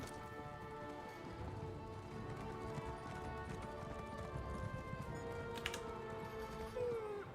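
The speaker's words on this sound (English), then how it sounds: "Oh, I need to get that horse upgraded." Horse hooves clip-clop steadily on the ground in Elder Scrolls Online, a continuous even trot sitting under layered game music and ambience, with no talk over it.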